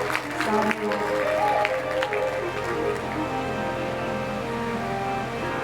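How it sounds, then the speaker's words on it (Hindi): Strong applause rises for the devotees at a Bhagavata Katha religious gathering, a sustained crowd clapping over droning music, with a voice heard under it early on. "एक बार सभी भक्तों के लिए जोरदार तालियां बजाएंगे"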